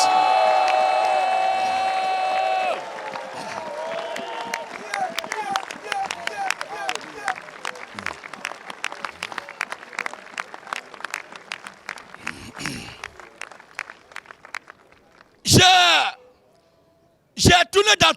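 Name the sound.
crowd applauding and cheering for Jesus Christ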